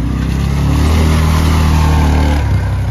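A cheap four-wheeler ATV engine revs loud and close as a woman drives it, a steady buzzing drone that dips slightly near the end.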